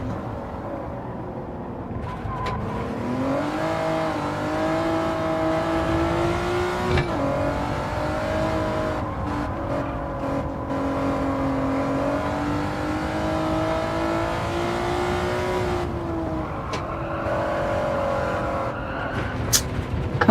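Honda NSX Type R race car engine in Gran Turismo 7, a continuous loud drone that rises and falls with revving and gear changes, with brief shifts and a tire squeal near the end.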